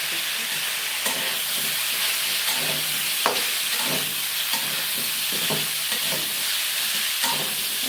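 Shrimp and sweet pumpkin curry is stirred in a pan, with a steady sizzle under repeated soft scraping and knocking strokes of the spoon, close up and without talk.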